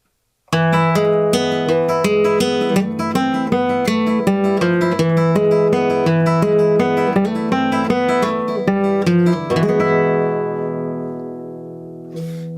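Steady fingerpicked nylon-string Spanish guitar, thumb and first finger in a quick even pattern of plucked notes ringing close and clear, ending on a sustained chord that fades out.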